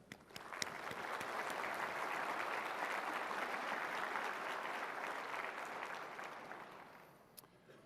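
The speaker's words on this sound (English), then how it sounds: "Everyone, please, a loud roar of applause for our sponsors and our exhibitors." Conference audience at a Canadian GIS user plenary breaks into sustained applause for sponsors and exhibitors, a dense, even roar of clapping that holds for several seconds before tapering off to a few scattered claps.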